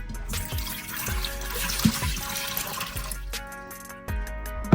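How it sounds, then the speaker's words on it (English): Water pours and splashes close-up into the inner liner of an Instant Pot Duo, with a gurgling, sloshing rush broken by a few brief pauses and clinks. "we're gonna take 3 cups of water and we're gonna pour them in there."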